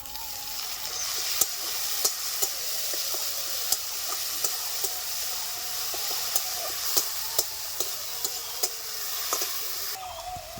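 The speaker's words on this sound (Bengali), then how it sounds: "পেঁয়াজটা ভাজা ভাজা হয়ে আসছে, দিয়ে দিচ্ছি বাটা মশলা" Onion with a ground paste of ginger, garlic and green chili sizzles steadily in hot oil, a dense hissing fry broken by sharp scrapes and taps of a stirring spoon against the pan throughout.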